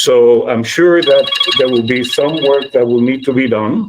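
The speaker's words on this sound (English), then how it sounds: "that's my phone." A telephone rings with a steady high electronic trill beneath someone speaking at a public COVID-19 recovery meeting, the ringing continuing under his talk.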